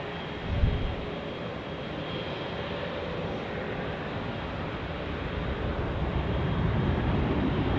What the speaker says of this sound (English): let's all enjoy the Qatar Airways landing right in front of us